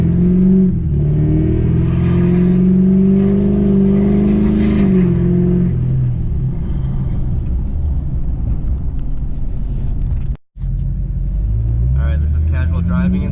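An LB7 diesel truck fitted with a turbo horn launches hard from a dig, its engine rising in a loud rumbling pull for several seconds before easing off, with a short dropout and a whistling tone near the end.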